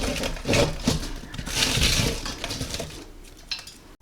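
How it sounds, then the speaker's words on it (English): A whole cooked turkey carcass, bones and skin still on and a lemon left inside, drops into a metal stock pot for bone broth. Clattering clunks and knocks come up close, with a settling rattle tailing off toward the end. "I'm just going to keep it in there and toss it in my pot"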